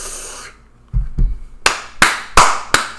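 Several sharp claps ring out one after another in an uneven rhythm, loud and close, following a brief lull with low thumps.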